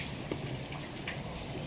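Rain falls steadily outside, a soft continuous patter with scattered nearby drips and splashes on wet surfaces, moderately quiet and without talk.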